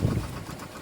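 A sailboat's engine runs steadily close by, a low rumbling drone with a knocking edge that is loudest at the start and then settles into a constant hum.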